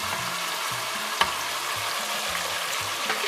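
Onion and salted fish frying in oil for a beans stew, a continuous close crackling sizzle with a sharp clack partway through and soft low thumps, no voices.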